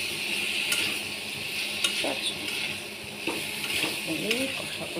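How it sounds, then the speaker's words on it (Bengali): Yam and potato being sautéed in a garlicky spice paste in a pan, with a steady frying sizzle broken by repeated scraping stirs of a spatula against the metal and faint background voices. "এই কষাকষি চলছে"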